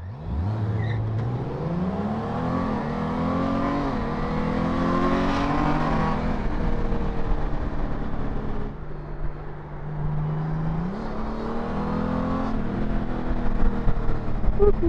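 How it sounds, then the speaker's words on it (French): A Honda Goldwing or BMW K1600B touring motorcycle makes a full-throttle standing start to 100 km/h, its engine revving hard and climbing in pitch through several gear changes, loud and close over steady wind rush. "on va essayer de se faire un départ arrêté, 0-100 km/h à bloc"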